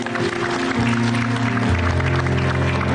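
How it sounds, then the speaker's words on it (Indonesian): An audience at a motivational seminar applauds, with broad, even clapping filling the clip, while sustained music tones play steadily underneath. "Luar biasa, boleh tepuk tangan."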